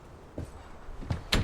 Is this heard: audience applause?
no